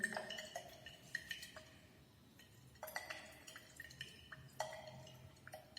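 Glass lab apparatus rattles and clinks as a sample is shaken hard, giving quiet bursts of liquid sloshing and chinking glass in short clusters, with faint pauses between and no voices.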